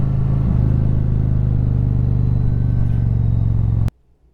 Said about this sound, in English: Got some tire slip coming out of that one.